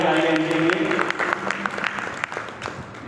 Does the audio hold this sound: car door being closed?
no